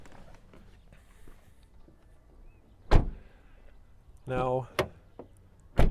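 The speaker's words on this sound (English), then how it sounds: "much better closing sound on the front, heavier doors" Front door of a 2025 Renault Rafale Esprit Alpine E-Tech full hybrid slams shut with a single heavy, solid thud up close, followed by a brief mechanical whir and click, after a few quiet spoken words.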